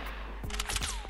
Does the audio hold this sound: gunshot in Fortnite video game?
yes